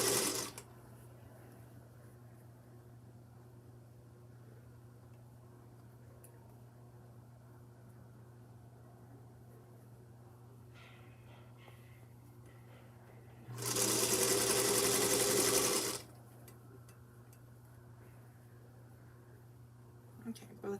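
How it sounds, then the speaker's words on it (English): A household sewing machine stitches over fabric seams in a single loud, steady whirring run of about two and a half seconds, set against a long stretch of quiet room hum. "so I'm going to sew over"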